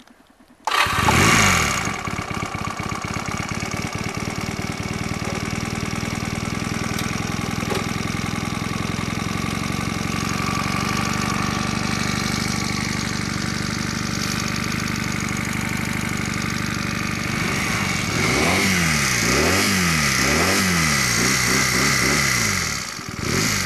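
A Regal Raptor DD125E motorcycle engine starts, then idles with a steady, close, mid-pitched chug. Near the end it revs in several rising and falling swells, with no talking.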